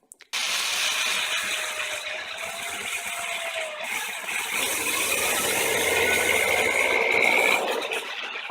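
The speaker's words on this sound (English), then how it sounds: "I'm going to drill the hole first instead of carving everything" A drill bores a hole into a piece of wood meant to hold a ferro rod, giving a continuous close grinding, whirring churn that runs without pause for several seconds and grows slightly louder toward the end.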